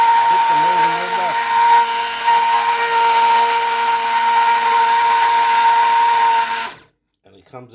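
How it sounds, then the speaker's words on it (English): An immersion blender whirs steadily through marinara sauce, a loud sustained high-pitched motor whine with a faint voice at the start, cutting off abruptly near the end. "So all we're going to do is hit the immersion blender."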